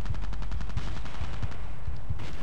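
Rapid automatic gunfire in the Battlefield 2 video game, dense loud bursts of shots firing in quick succession across the whole moment, close and harsh.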